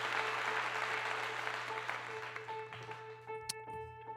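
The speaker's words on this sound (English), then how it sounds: "So round of applause for that." Applause from a small audience follows a host's rhyming remark, a fairly even patter of clapping that tapers off, with faint tonal hum and a brief sharp click near the end.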